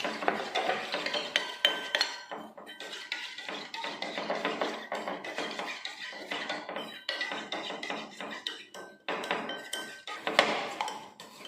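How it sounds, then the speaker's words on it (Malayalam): A spoon stirring a rice flour face pack mixture in a small bowl, with rapid continuous scraping and clinking of metal against the bowl, close by and with no talk. "ഒരു ടേബിൾ സ്പൂണോളം അരിപ്പൊടി എടുത്ത് ഇതിനകത്ത് ചേർത്ത് നല്ലതായിട്ടൊന്ന് മിക്സ് ചെയ്ത് കട്ട കട്ടാതെ ഒന്ന് കുറുക്കിയെടുക്കാം"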